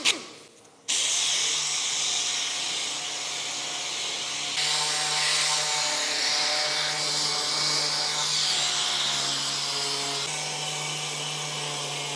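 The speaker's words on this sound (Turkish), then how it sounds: "bu panel ve mutfak tezgahımız son kez zımparalanıyor" An electric sander runs continuously on a wooden panel and kitchen countertop in a caravan, with a steady motor hum and a gritty, hissing abrasion that shifts slightly in pitch as it works the surface.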